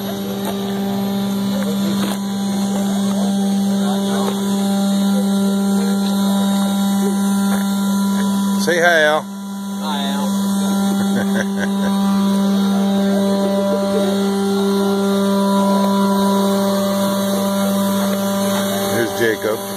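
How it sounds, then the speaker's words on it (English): Wood gas truck and tractor engines idle with a steady low hum and rumble throughout, a brief dip in the middle, while people talk nearby. "we got all the wood gas trucks and tractor. Just flaring off."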